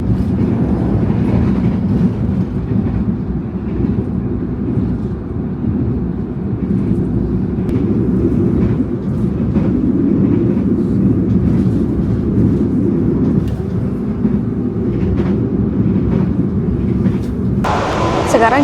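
Train pulling into Pasar Senen station in Jakarta, a steady loud low rumble with rattling and clacking throughout, ending with a sudden brighter hiss.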